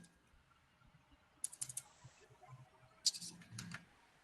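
Quiet keystrokes on a computer keyboard come in two short bursts of rapid taps with a pause between, close and faint against a soft room hiss.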